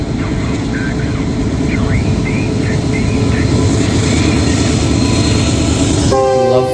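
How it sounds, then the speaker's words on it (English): A CN freight train rumbles loudly and steadily beneath a bridge, wheels clacking on the rails, and its horn blasts sharply near the end. "Love the horn that they did underneath the bridge."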